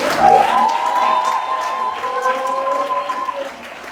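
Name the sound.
congregation cheering and applauding the Lord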